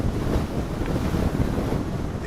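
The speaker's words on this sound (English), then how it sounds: "The southerly winds have resumed their gusting." Gusting southerly wind buffets the microphone at an airfield runway, a loud, continuous broadband rumble that roars steadily throughout with slight surges in strength and no voices.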